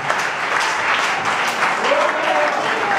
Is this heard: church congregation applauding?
yes